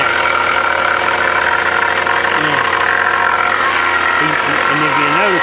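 A stump grinder's engine drones loud and steady while its cutter chews down a tree root, run below full throttle, with someone talking over the constant roar.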